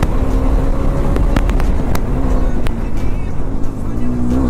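A 390 motorcycle ridden on the road, with a loud, steady engine drone and rushing wind heard close up throughout.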